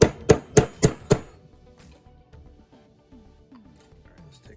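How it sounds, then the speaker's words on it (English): Five sharp metallic hammer strikes land in an even rhythm as a rivet is hammered down on a pinball ramp flap, loud and close, followed by faint clinks and a quiet stretch. "Let's put this tool in position and go ahead and start hammering it down."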